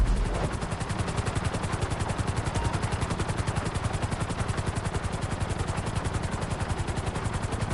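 A helicopter flying through a city course in the video game GTA 5, its rotor chopping in a steady rapid beat throughout, loud and close with a constant engine roar and no talk.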